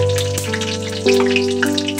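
Fenugreek seeds and green chillies frying in hot oil for a taro-leaf dish, giving a steady close sizzle with crackly pops and a brief louder burst as more goes into the pan; no talking.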